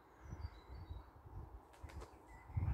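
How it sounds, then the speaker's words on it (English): Wings flap in bursts up in a tree as crows and magpies scuffle over territory, soft repeated beats at a moderate distance with faint bird calls above. "they're doing a lot of flapping up there"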